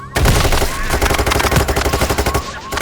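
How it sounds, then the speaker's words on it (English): Rapid automatic gunfire in the video game Payday 3, a loud continuous burst of closely spaced shots lasting nearly three seconds. "Shooting it will cause it to explode, shocking nearby enemies and making them go down faster."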